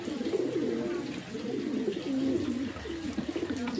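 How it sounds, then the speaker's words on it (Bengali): Ablak pigeons kept at a mud house coo continuously in low, rolling, overlapping calls, close and fairly loud, with no talk. "আবলুক পায়রা আমার একটু বেশি শখ, আবলুক পায়রাও রেখেছি"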